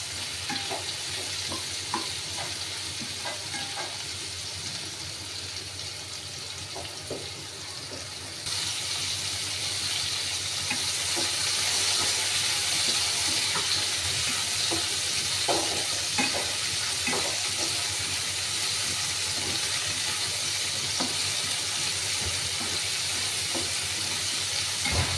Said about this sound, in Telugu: వేసుకొని వీటిని కొంచెం ఫ్రై చేసుకోవాలి మనం.